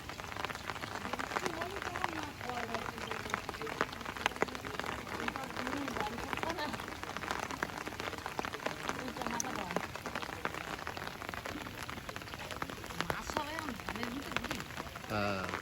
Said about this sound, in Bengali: হালকা এক দু ফোঁটা করে বৃষ্টি পড়ছে আস্তে আস্তে বাড়ছে বৃষ্টির গতি